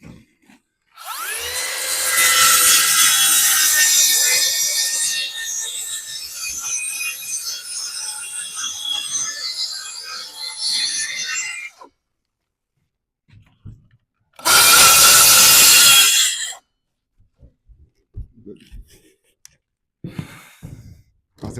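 A saw cutting wood on a table while framing a roof dormer, with one long, loud rasping cut followed by a brief second pass, then quiet with faint handling noises.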